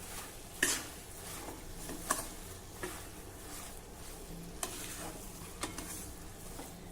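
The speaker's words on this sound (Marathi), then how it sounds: "नीट मिक्स करूया" Wheat flour sheera being stirred in a pan with ghee, a soft continuous scraping and gentle sizzle broken by a few sharp spoon clicks against the pan, close and fairly quiet.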